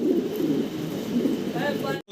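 A pair of blue-bar Mondain pigeons coo in soft, rolling bursts, fairly close, under a noisy background with a brief high chirp near the end before it cuts off.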